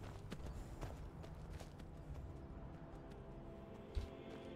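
Horse hooves in the video game Skyrim, a steady clip-clop of footfalls running under a dense bed of ambient game sound, with one sharper thump near the end.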